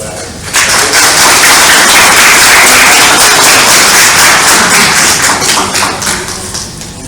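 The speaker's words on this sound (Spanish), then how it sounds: "les pido un fuerte aplauso" Audience applause at a talk on diabetes emergencies and nutrition myths, a loud burst of clapping from a room that starts abruptly, holds steady, then eases slightly.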